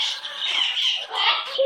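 Pet bird squawking in bursts while being petted, close and fairly loud, with a person speaking softly alongside.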